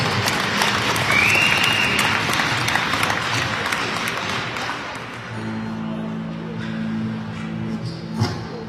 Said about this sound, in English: Let's have a big round of applause for our honorary captains